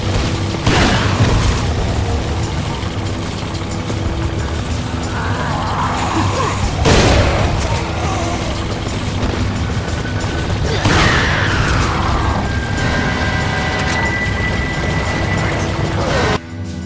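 Gameplay from Resident Evil 4 on Professional mode, with scattered loud impacts and bangs over a steady game background across a long stretch, a few sharp heavy hits standing out.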